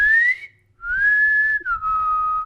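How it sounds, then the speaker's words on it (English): A person whistles alone and close, with three sustained tones in quick succession, the first rising and briefly cut off, then a longer steady note that slides down into a level final tone. "give us your best whistle"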